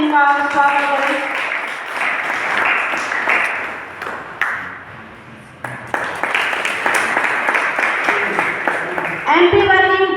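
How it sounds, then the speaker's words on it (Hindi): Press journalists at a union award ceremony in Mandla applaud to welcome an honoree, with dense clapping running under a voice and an electronic ping near the end. "सभी पत्रकार बंधुओं से निवेदन करती हूँ कि कृपया जोरदार तालियों से इनका स्वागत करें।"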